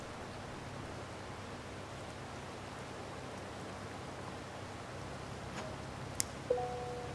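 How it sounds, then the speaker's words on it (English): Heavy rain on a farm in Holland, Missouri, in November, a faint, even hiss of falling water throughout, broken near the end by a couple of sharp clicks. "Can't believe how hard it's raining now."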